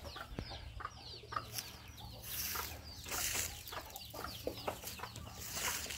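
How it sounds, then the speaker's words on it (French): A rooster crows amid a busy outdoor farmyard, with clucking birds and chirps scattered throughout at moderate distance; a goose is also present. "le rooster qui se fait entendre."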